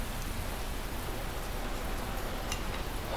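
Heavy, steady rain pours down, a dense continuous hiss with scattered drop patter and no break, filling the whole scene at a fairly even level.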